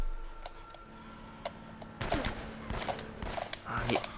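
Gunshots in Uncharted: Drake's Fortune crack out as scattered single shots early on, then a denser cluster of rapid firing and impacts in the second half, moderately loud over a low game background.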